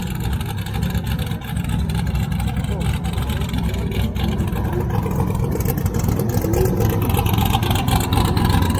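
A modified nitrous-fed car engine, formerly naturally aspirated and now twin-turbo, runs hard at a track practice day at Interlagos. A loud, continuous rough roar builds steadily and drowns out any background.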